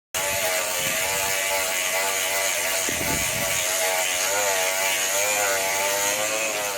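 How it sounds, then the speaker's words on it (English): Mouse sander working over the inside of a wheel barrel, a continuous close, loud whirring drone with a wavering buzzing pitch, sanding scuffs at moments, no talking. "most of that we can just do with the mouse sander"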